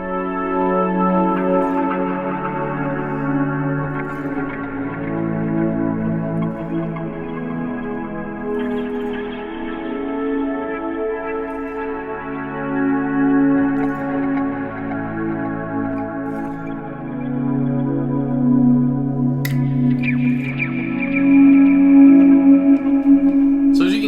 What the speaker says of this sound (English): lately, I've got this dialed in to where my guitar is basically a pad